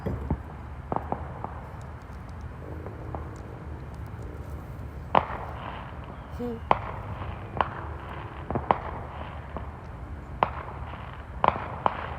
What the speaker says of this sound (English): That's another fireworks, if you guys are wondering.